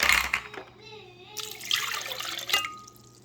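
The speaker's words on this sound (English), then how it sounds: "Add some water to our blender." Water splashes and pours in short bursts into a blender, with a steady pouring stretch in the middle, close by and moderately loud.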